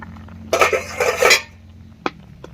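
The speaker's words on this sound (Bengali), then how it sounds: "ঢাকা দিয়ে রান্না করে নিয়েছি এবারে ঢাকাটা তুলে নিচ্ছি" A metal lid is lifted off a pot of cooking chola and kochu, with a short scraping clatter followed by two light clinks, close and clear.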